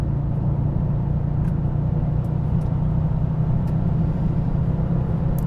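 A 2024 Bentley Continental GT accelerating smoothly in sport mode, heard from inside as a steady, loud low engine and road drone with little change, no voices.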